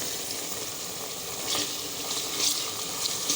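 Minced meat fries on high heat with black peppercorns, cloves and black cardamom, giving a continuous loud sizzle with occasional stirring scrapes and bursts of crackle, no voices.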